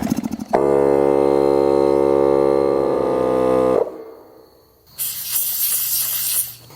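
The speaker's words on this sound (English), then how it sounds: "I can hear the hiss coming from the tire." A loud sustained hiss of air escaping from a leaking ATV tire, abruptly cut off, then a harsher, noisier hiss resumes after a brief pause.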